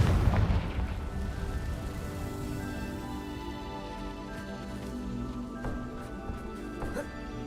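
A Confringo fire spell bursts in the game Hogwarts Legacy, a loud booming blast at the start that settles into a sustained rumbling roar with layered effects and scattered smaller pops.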